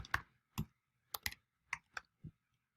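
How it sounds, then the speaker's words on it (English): Typing on a computer keyboard while filling out an electronic form: seven or so crisp separate key clicks in an irregular rhythm, close and fairly quiet, with no voices. "simply click to start typing"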